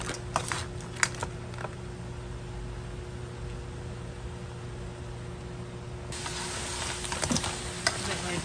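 Salted crab mixture with sugar is stirred in a pan, producing a continuous low sizzle with scraping utensil strokes and a few sharp clicks, nearby and without voices.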